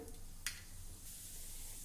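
Cumin seeds drop into hot oil in a kadhai with a short sharp crackle, then a soft, steady sizzle that continues quietly with no voices.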